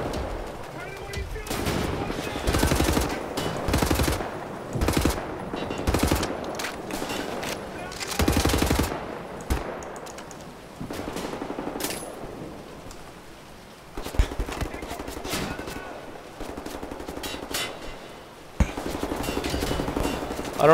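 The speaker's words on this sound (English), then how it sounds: "Who's shooting at me?" Gunfire in the shooter game Wolfenstein: The New Order comes in repeated loud, sharp volleys separated by quieter gaps, with rumbling background noise throughout.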